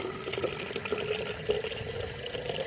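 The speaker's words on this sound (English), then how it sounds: "the only way to get water for the hike is I have to use the faucet like this" An outdoor faucet runs steadily, a continuous splashing rush of water filling or pouring, heard fairly close with no voices.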